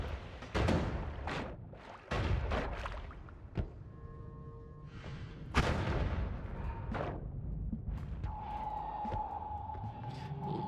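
Acid bombs, acid barrels and propane tanks going off in a video game: a rapid series of loud, booming blasts and pops, followed by softer crackling and a lingering tonal hum.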